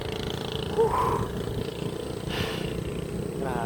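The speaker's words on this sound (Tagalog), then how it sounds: "lakas ng hangin dito" Strong coastal wind at Claveria buffets the microphone in a steady, loud broadband roar with gusty swells, continuous throughout and without talk.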